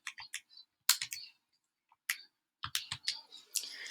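Calculator keys pressed in a quick irregular series of light, close clicks and taps separated by short silences.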